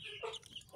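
A Burmese chicken gives a short, close cluck, a brief burst lasting under a second with no voices over it.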